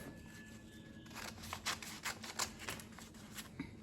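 Scissors cutting off a paper dress pattern for a little girl's dress, a quick series of close, crisp snips in a quiet room.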